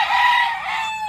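A rooster crows close by, one long loud drawn-out call that rises and then trails off, with no other sounds around it.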